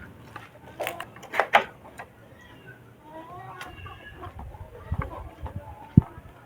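A hen that has been moved onto a clutch of eggs clucks in short, intermittent bursts close by, mixed with a few brief rustles and thumps.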